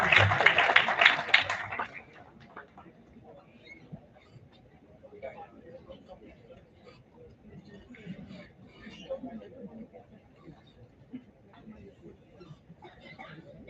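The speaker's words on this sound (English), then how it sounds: "Let's have a huge round of applause for ma'am." A conference audience gives a brief, loud round of applause during a sapling presentation ceremony; the clapping lasts about two seconds, then the hall drops to a quiet murmur with faint scattered sounds.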